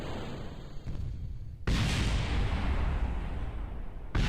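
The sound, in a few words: spacecraft thrusters firing and exploding, video game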